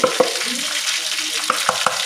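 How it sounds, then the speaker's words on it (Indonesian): Shallots, garlic and red chili stir-fry in hot oil, giving a close, steady sizzle with a few quick utensil scrapes and taps against the pan over the short stretch. "Kita tumis sampai wangi."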